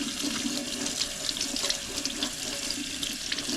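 Steady running tap water splashing over a foam nitro RC car air filter during rinsing in a sink, a constant close, moderately loud gush with no talking.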